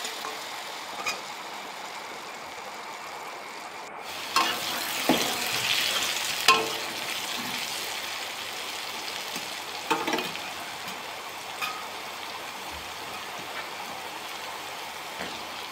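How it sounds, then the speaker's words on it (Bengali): Potatoes fry in a pan with salt and a little turmeric, browning in a steady, broadband sizzle that runs the whole time, broken by a few louder stirring scrapes and clatters. "এবার আলুগুলোকে ব্রাউন কালার করে ভেজে নেব"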